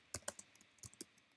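Quiet clicks of typing on a computer keyboard while entering HTML code, with a handful of irregular keystrokes in short bursts and no voice.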